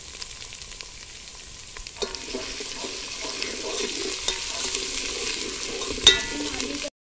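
Onions with turmeric and coriander sizzle and fry in a pan for chicken cooked on a wood-burning stove, a steady close hiss with occasional stirring scrapes and a sharp clink near the end.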